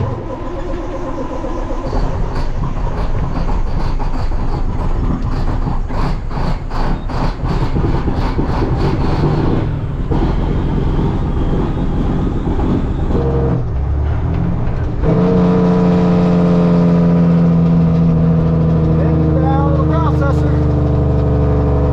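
A truck engine cranks, catches and settles into a loud, steady idle right nearby. There is a rough, ragged stretch early on, and after that the engine drones on evenly.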